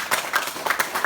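A crowd at a Warisan Sabah political gathering in Kimanis claps for a party official, a short burst of uneven hand claps with distinct louder slaps.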